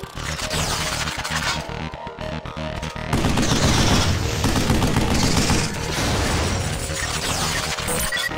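Weapon fire in the video game Vanquish Remastered: loud, continuous, dense barrage of shots and booms with a brief dip before surging back, sustained throughout without speech.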